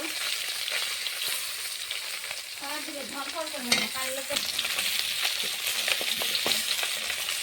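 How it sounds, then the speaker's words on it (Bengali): Katla fish fries in a pan with a steady, close sizzle and spatter that runs the whole time, broken by occasional clinks and scrapes of stirring. "মাছটা এখানে ভাজা হোক"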